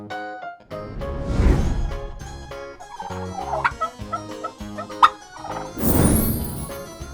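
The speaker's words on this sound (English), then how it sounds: "Turkey." Turkey gobbling on a farm, a rapid bubbling gobble in short bursts over soft background music, moderately close, with a couple of louder noisy swells.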